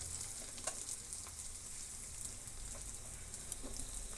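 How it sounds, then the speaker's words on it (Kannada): Dried masala sandige deep frying in hot oil, giving a steady, even hiss and crackle with occasional small pops and no voices. "ಒಣಗಿರುವಂತಹ ಮಸಾಲೆ ಸೊಂಡಿಗೆನ ನಾವು ಈಗ ಡೀಪ್ ಫ್ರೈ ಮಾಡ್ಕೊಳ್ಳೋಣ"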